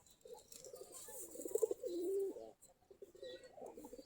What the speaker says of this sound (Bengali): আমাদের কবুতরগুলা বসে আছে খোপের কাছে, অনেকগুলা গাছের ডালে বসে আছে।